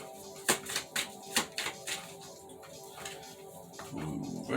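A deck of tarot cards is shuffled by hand in a quick series of crisp, papery riffles and flicks, close and fairly soft, with a brief shuffling rustle near the end.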